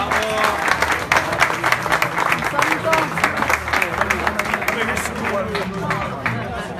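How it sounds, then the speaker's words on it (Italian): Loud applause from a crowd at a cooking contest final, dense steady clapping lasting several seconds with some crowd noise mixed in. "Facciamo un applauso a Salvatore."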